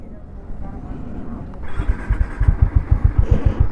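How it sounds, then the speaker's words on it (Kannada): A 2024 Harley-Davidson X440 motorcycle with a long-stroke engine idles and then revs with a steady, close throbbing exhaust pulse that grows louder, rhythmic thumps building toward the end. "ಇಂಜಿನ್ನ ಸೌಂಡು ಈ ಥರ ಇದೆ, ಎಕ್ಸಾಸ್ಟ್ನ ಸೌಂಡ್ ಈ ಥರ ಕೇಳಿಸುತ್ತೆ."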